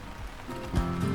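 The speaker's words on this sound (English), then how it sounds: "The rain has eased a bit" Soft, steady rain hiss with a low rumble underneath, growing slightly louder toward the end.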